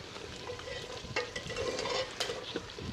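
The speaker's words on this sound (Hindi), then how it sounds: "थोड़ा सा और भून लेंगे।" Masala frying in oil for achari chicken while being stirred in a pan, a steady soft sizzle with intermittent scraping strokes of a spoon, close and moderately quiet.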